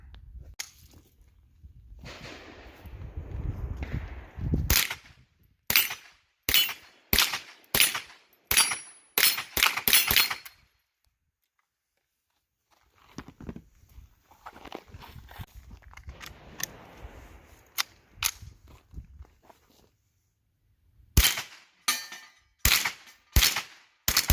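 A Ruger 10/22 rifle firing .22LR rounds outdoors: quick series of sharp cracks and pops in rapid strings, pausing between magazines, some shots louder than others.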